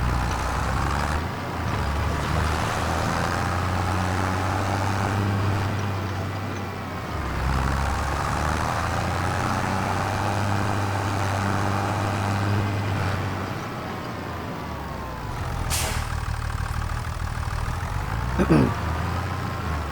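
A tractor engine runs in the video game Farming Simulator, a steady low rumbling drone with rising and falling revs as it drives through a puddle, heard continuously throughout.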